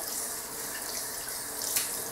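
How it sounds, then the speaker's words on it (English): Tap water runs steadily during a cold-water rinse that washes shaving cream off after a double edge safety razor shave, a close, even hiss from start to finish with no voices. "Rinsing off with cold water."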